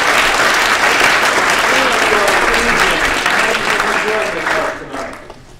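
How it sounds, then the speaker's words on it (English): Steady, loud applause from a live audience welcoming a performer at a science talk, dense clapping that holds for several seconds and then begins to thin and fade near the end. "warm round of applause"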